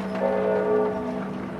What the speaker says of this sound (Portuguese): O pai dele estava preso assim que o sino dobrou